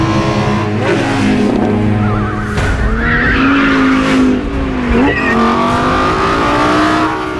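Lamborghini Huracán LP 580-2, a rear-wheel-drive V10, screams loud and close on a snowy racetrack, revving high before an upshift and then climbing again, with tire noise mixed in.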